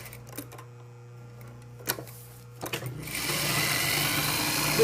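A sewing machine stitches fabric pieces together, with a few faint clicks first, then the needle starting up into a steady, close whirring run that builds toward the end.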